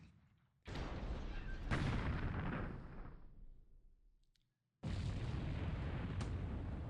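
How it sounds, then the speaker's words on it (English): Enemy ship gunfire in the War in the Pacific naval war game, loud booming blasts that decay into a rumbling tail, then a brief silence and another heavy burst. "He's shooting back at us!"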